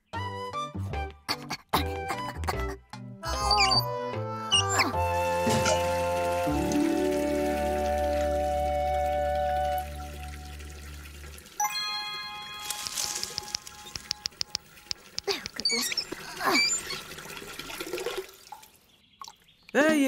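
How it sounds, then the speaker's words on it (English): A garden tap runs water into watering cans, with splashing and dripping alongside tuned musical notes, then a pause and more trickling. "Could you turn the tap on for me? We need to fill these watering cans."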